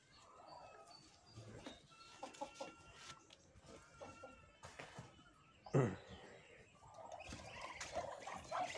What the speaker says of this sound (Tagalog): Ang alagang pato.